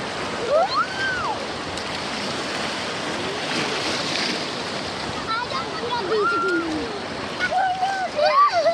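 Sea water splashes and surf wash continuously at Qurum Beach in Oman, with wind buffeting the microphone while an adult and children talk and call out over the water.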